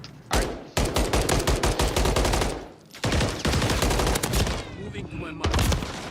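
Rapid automatic gunfire in Call of Duty: Modern Warfare 3 rattles out in long, loud, closely spaced bursts with a brief pause between strings of shots.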